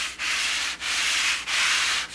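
A molded part is hand-sanded with 400-grit paper in three long, even, close rasping strokes separated by short pauses, with no voices.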